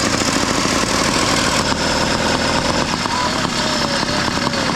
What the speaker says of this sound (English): We'll have to turn off the engines.